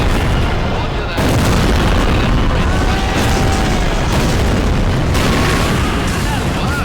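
Guns fire heavy booming blasts in rapid succession, loud and dense. The rumbling roar barely lets up across the seven seconds, and voices are faintly mixed in.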